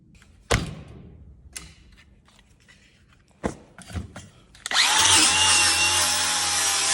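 A wire brush on a power tool starts up after a few sharp knocks and thuds, then runs continuously as a loud, harsh, close whirring and grinding that holds to the end without talk.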